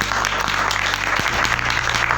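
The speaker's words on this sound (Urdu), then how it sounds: "تالیاں بجائیں ذرا یسوع کے لیے۔" A church congregation applauds for Jesus with dense, continuous, energetic clapping that fills the whole stretch at close range, with a steady low hum underneath.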